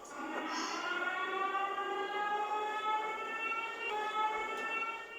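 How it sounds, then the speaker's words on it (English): A wailing siren like a police or civil defense siren rises and falls steadily at a distance for several seconds, eerie and sustained in a forest setting. "I hear like a police siren or something"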